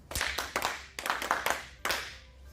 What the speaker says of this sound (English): Let's clap hands for her.